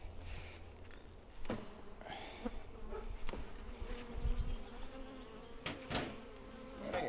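Honeybees buzz around an open hive during an inspection, a soft continuous droning hum with occasional louder passes near the microphone and faint handling noises.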